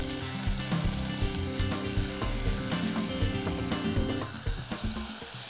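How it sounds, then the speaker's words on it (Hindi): Half a can of canned tomatoes hits a hot pan with garlic, giving a steady loud sizzle and frying crackle with scattered clinks and stirring scrapes throughout. "आप ऊपर से आधा कैन टमाटो का इसमें डाल दें"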